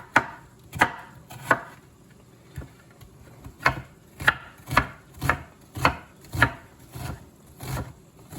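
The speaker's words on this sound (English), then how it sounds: "Grab my knife. I got about a quarter of an onion. It's probably about 2 tablespoons of chopped onions." A knife chops a quarter of an onion on a cutting board with a steady series of about a dozen sharp, close knocks roughly every half second, with no talking.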